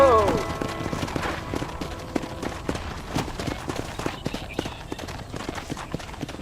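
A horse gallops in the Western video game Red Dead Redemption, its rapid, rhythmic hoofbeats close and continuous over a faint bed of game sound.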